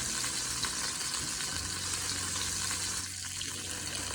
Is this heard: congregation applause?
no